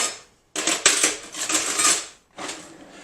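A fork stirring xanthan gum into sauce in an Instant Pot, scraping and clinking against the metal pot in bursts separated by short pauses, close and fairly loud with no talk.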